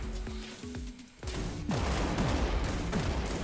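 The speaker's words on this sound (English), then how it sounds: "do you like my rocket launcher?" Rocket launcher fire in the video game Wrack: Exoverse, with a rapid series of explosive thumps and booms building into a dense, sustained barrage of blasts.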